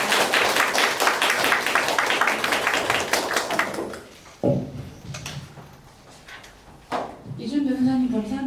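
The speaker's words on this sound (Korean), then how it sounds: "큰 박수로 모시겠습니다" An audience at an anti-poverty forum in Korea applauds with dense clapping for about four seconds, then it fades out and a speaker begins talking over a quiet room.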